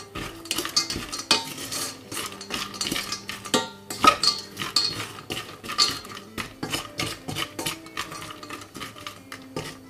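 Metal utensil scraping and clinking steadily around a saucepan as nuts and sugar are stirred over heat, a busy run of stirring taps and scrapes with no talking.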